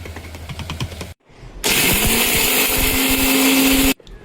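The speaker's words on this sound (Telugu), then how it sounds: "ఇప్పుడు ఇది కూడా మిక్సీ పట్టుకుంటున్నా" A kitchen mixer grinder whirs loudly and steadily for about two seconds after a short silence, then cuts off abruptly.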